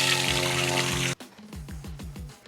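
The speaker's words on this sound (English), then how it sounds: "Oh, I love having running water for dishes." Running water rinses a camping pan during outdoor cooking. A steady close stream runs for about a second and then stops, followed by several short gurgles and drips spaced at a regular rhythm. No one talks.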